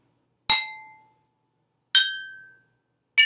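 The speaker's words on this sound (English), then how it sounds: "Now, when I tap the glass, that should cause the glass to shake," A spoon taps a drinking glass partly filled with water, producing three separate bright ringing clinks with clear pitched tones that fade quickly into silence.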